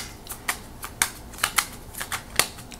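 Tarot cards being shuffled in a quick run of crisp riffling bursts and snaps, close and fairly quiet, with no voice over them.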